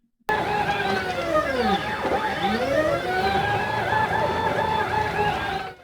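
CNC machine running G-code with arc moves, giving a continuous whining stepper-motor tone whose pitch sweeps up and down in repeated glides, with slight hesitations between arcs, close and steady until it stops.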